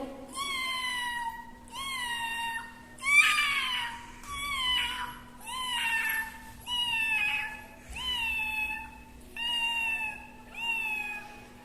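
A voice imitates a cat in a school arts festival mimicry performance: eight drawn-out meows at an even pace, each rising then falling, close and moderately loud over a faint steady hum.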